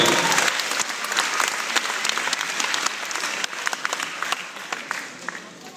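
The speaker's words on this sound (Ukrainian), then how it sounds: "Аплодисменти!" A concert crowd at a university gala bursts into sustained applause, dense rapid clapping that holds loud and then gradually thins toward the end.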